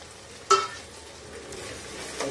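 Mung and masoor dal being stirred in a pan: a sharp scrape of a spoon against the pan, then soft, faint shuffling of lentils with a quiet background hiss.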